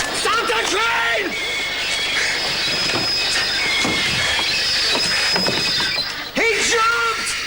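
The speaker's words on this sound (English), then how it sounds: "Stop the train!" A moving train rumbles steadily with high metallic wheel squeal and clatter throughout, as though braking toward a stop, while raised voices cry out over the noise near the start and end.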